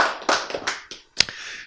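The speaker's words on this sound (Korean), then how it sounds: "선물을 우리 한번 박수로 환영합시다" A small audience at a church lecture gives a brief, scattered round of handclaps, a few loose claps trailing into a single sharp clap near the end.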